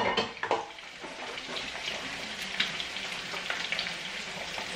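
Egusi soup broth is poured through a sieve, a continuous splashing, trickling liquid sound with a few sharp clinks of kitchenware near the start.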